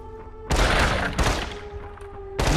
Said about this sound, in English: I'm just shooting barrels, my guy.